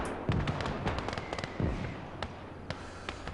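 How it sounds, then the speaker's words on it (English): Mortar fire in the World War II strategy game Call to Arms: Gates of Hell on the Eastern Front: a couple of deep, booming thumps with rumbling tails, over a busy bed of scattered distant bangs and crackling battle noise. "We've got a mortar in action."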